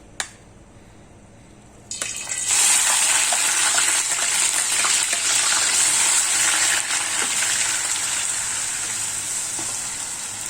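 Three medium grated onions hit hot oil in a pot while cooking a Hyderabadi green kofta curry, a sharp splash followed by a loud, steady sizzle that slowly settles.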